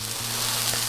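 Mushrooms and onions sizzle steadily in a pan, a close, even crackle of frying with no voices.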